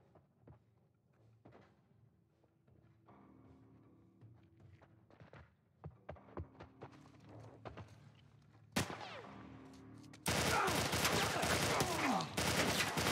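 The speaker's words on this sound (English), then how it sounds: "The hell is over there shooting me?" Gunfire from the game The Last of Us Part I: scattered sharp shots and thuds that build into a loud, dense burst of continuous firing toward the end.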